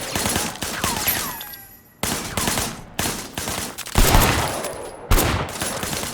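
Gunfire in the video game Sleeping Dogs: rapid, loud bursts of automatic weapon fire broken by brief pauses, with sharp shots and ringing echoes and no talk.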